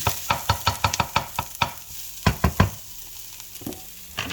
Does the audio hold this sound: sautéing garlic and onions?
yes